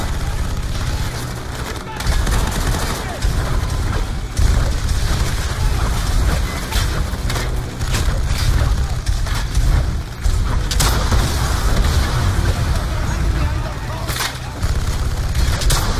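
Heavy explosive weapon fire and grenade blasts in the Call of Duty: Black Ops 2 video game, loud booms and gunfire layered over continuous rumbling battle noise, with game voices talking over it.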